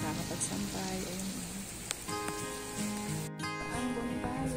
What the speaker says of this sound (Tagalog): Ay, nag-umpisa naman ang ulan.